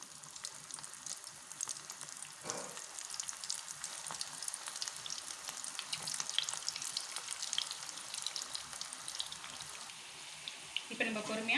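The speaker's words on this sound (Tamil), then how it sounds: "இப்போ இதை நம்ம ஆயிலில் ஃப்ரை பண்ணி எடுத்துக்கலாம்." Bread batter balls deep-frying in hot oil for a snack, a faint continuous sizzle and crackle with a brief louder disturbance near the end.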